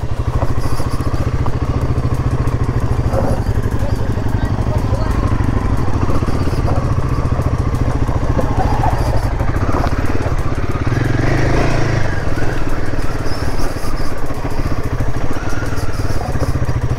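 A motorcycle engine rumbling steadily and loud throughout as the bike rides downhill, with a rider talking over the engine noise.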